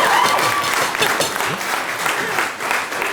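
An audience at a wedding speech claps together in steady, close applause that fills the whole few seconds, with some voices mixed into the clapping.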